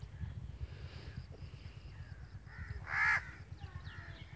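Crows cawing outdoors over a farm rice field, a few harsh calls with one loud close caw standing out, above a steady low engine-like rumble.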